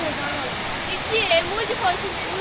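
Rushing water at Ermai Falls near Dharmasthala, Mangalore, a steady broadband roar of the waterfall filling the whole stretch, loud and close, with a faint voice briefly rising above it.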